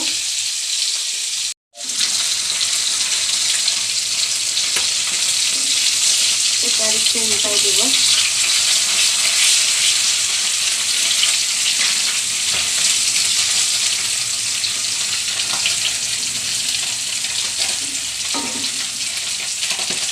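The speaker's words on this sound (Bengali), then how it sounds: "একটু হালকা ভাজা পর্যন্ত অপেক্ষা করব" Loud, close sizzling and spitting of oiled parshe fish frying in a pan, starting after a brief cut and continuing steadily, with a few quiet spoken words.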